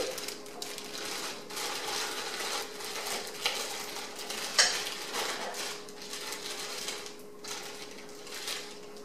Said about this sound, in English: And then I'm going to put my carrots in.